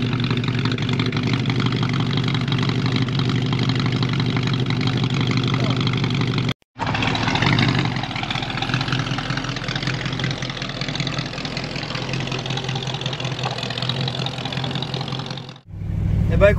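A red Ford Mustang engine runs steadily with a deep, even drone, breaks off briefly for a moment, then resumes before dropping away at the end, with people talking over it.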